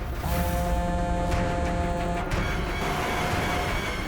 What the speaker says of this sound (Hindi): अरे ट्रैफिक, अभी ट्रैफिक मिलना था क्या?